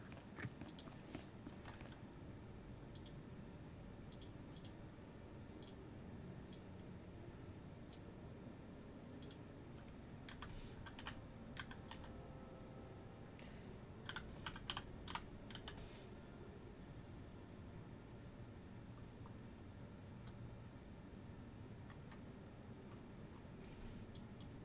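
Clicks of a computer keyboard come in scattered bursts of typing over a low background hum, close and fairly quiet, with pauses between runs of keystrokes and no talk.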